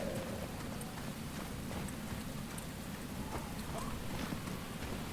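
Steady rain in the video game Enshrouded, a continuous dense patter with scattered faint drips and knocks over a low rumble, holding constant throughout.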